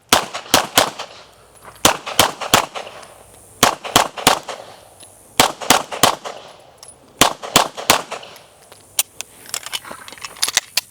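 Pistol shots on a USPSA practice course during a transition drill, fired in quick groups of two and three cracks with short pauses between strings, loud and close, with no talk.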